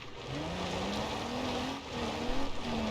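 Simulated car engine in BeamNG.Drive racing round a dirt track, a steady droning hum with a rising pitch line as it accelerates toward a jump after a downshift, loud and continuous with a slight dip near the end.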